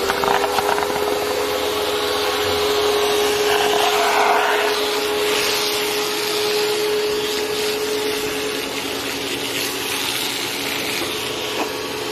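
A newly set up foaming machine sprays soap in a continuous loud hiss with a steady motor hum underneath, running without pause and with no voices.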